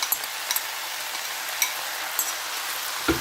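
Shrimp sautéing in a pan with seasoning sauce, a steady close hiss of frying broken by a few sharp scrapes and clinks of a spoon stirring.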